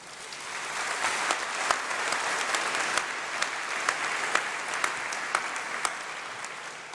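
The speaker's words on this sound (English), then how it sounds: "huge round of applause, please" Sustained applause from a large audience at a university summer congregation ceremony, honouring international students; dense, steady clapping with a few sharper individual claps standing out, continuous and fairly even throughout.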